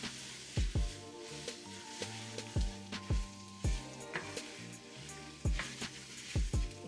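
Chicken and vegetable pad thai tossed in a pan with Kung Pao stir-fry sauce, giving a low sizzle broken by repeated sharp scrapes and clacks of a utensil against the pan, with a musical backing underneath.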